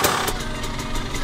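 A motorcycle engine runs during a ride, a loud, close, steady mechanical drone with a few brief surges, no voices.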